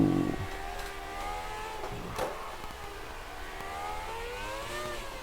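An F1 car engine in the racing video game Formula 1 2019 revs and hums in a high, rising and falling whine, moderately quiet and steady, with no talking.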